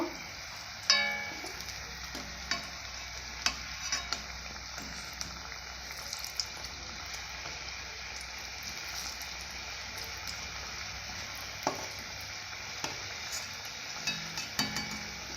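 Singara deep-frying in hot oil, a continuous soft bubbling hiss with occasional sharp clicks and taps of a utensil turning them, moderately quiet and without speech.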